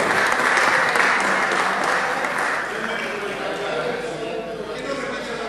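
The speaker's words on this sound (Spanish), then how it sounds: "Quiero agradecer y pedir un aplauso" Sustained applause from deputies in a parliament chamber, steady and dense, slowly easing off toward the end.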